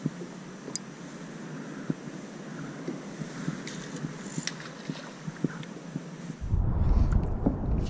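Wind gusting over open sea at night from a small fishing boat at anchor, a steady broad rush with scattered knocks and creaks, swelling louder and closer near the end; no talking.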